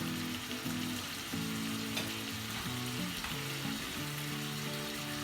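Monkfish with mushrooms and red pepper sizzles steadily in a hot pan, a dense continuous frying hiss broken by repeated scraping stirs of a utensil against the pan, with no voices.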